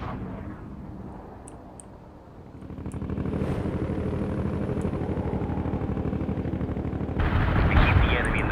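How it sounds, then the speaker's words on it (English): An artillery barrage in the World in Conflict war game: dense, rapid rumbling blasts build into a continuous low roar that grows louder and harsher near the end. "Launching a barrage."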